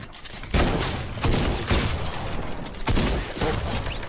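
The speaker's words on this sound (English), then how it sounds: "Oh my god, that is Tommy gun." Rapid, loud bursts of Tommy gun fire in Fortnite, several sustained volleys rattling back to back with heavy, dense impacts and no pauses of silence between them.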